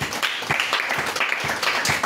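A church congregation at a Sunday worship service breaks into broad, sustained applause, dense clapping from many hands filling the room for the full two seconds, with no voices standing out.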